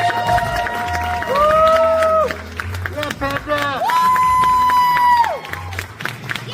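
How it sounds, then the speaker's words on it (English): A stand-up comedy open mic crowd cheers, with high whoops and sustained shouted tones over scattered clapping. People's voices mix in throughout and the noise stays loud and lively. "Round of applause for that guy."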